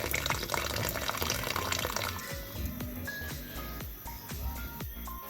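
Tap water runs steadily into a sink while vegetables for Jamaican-style steamed fish are washed, a loud splashing rush that eases midway into lighter drips and trickles with occasional clunks, close by, with no speech.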